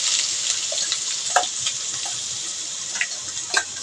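A ground masala paste of coconut, onion, coriander, garlic and ginger frying in a pot for mutton curry, a soft steady sizzle broken by a few sharp stirring clicks and spits, close and without talk.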